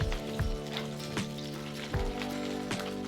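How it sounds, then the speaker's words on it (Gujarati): Cauliflower florets fry in hot oil with a steady hiss, broken by a few sharp clanks of stirring roughly every three-quarters of a second, with a faint tonal hum underneath. "થોડી વાર આપણે આ રીતે ફ્લાવરને આપણે ફ્રાય કરી લઈશું।"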